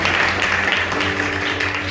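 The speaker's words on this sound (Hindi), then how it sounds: "ताली बजाएं, हालेलुया।" A church congregation claps and applauds in a dense, loud, continuous wash of hand claps, with a low steady hum underneath and no clear voices above it.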